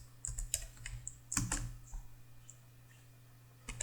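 Someone types Java code on a computer keyboard, producing quiet, irregular clicks and taps in short bursts with pauses, close by and alone over a faint steady hum.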